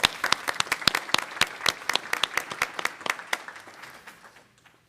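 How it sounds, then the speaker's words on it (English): Audience applause at a school board meeting, many people clapping in a brisk burst that is loud at first and thins out toward the end. "Let's give him a round of applause."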